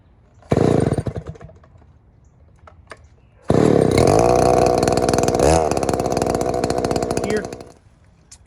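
A Stihl 070 clone chainsaw fitted for milling roars close by. A short first burst fades to idle, then it revs hard and holds a loud, steady whine for about four seconds before dropping back.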